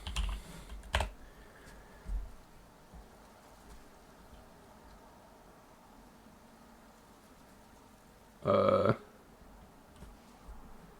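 Typing on a computer keyboard, faint quick clusters of keystrokes separated by quiet stretches, with a louder burst near the end, over low room hiss and no speech.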